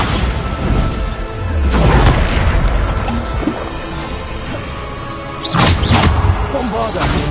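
Two loud Bombarda spell blasts in a Harry Potter video game, each a sharp crashing burst with a whooshing tail a few seconds apart, over busy game noise and a voice.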